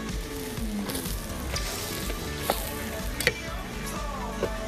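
Beans tipped into a sizzling frying pan while making a Catalan rice dish, giving a steady close frying hiss with a few sharp crackles and light stirring clatters throughout, no voices.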